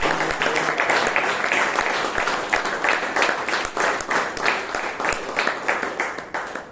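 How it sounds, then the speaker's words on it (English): Sustained audience applause at a Bangalore Toastmasters club meeting, honouring the club president: dense, steady clapping from a roomful of people that runs the whole length and tapers slightly near the end. "please give our president a huge round of applause"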